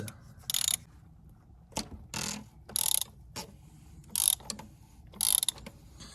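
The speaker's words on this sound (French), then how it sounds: "tu mets une douille de 32 là-dessus, avec des rallonges. Hop. Et tu dévisses." A ratcheting socket wrench with a 32 mm socket and extensions loosens a bolt during a car oil change, giving repeated short clicking bursts in an irregular rhythm, close and clear with quiet gaps between them.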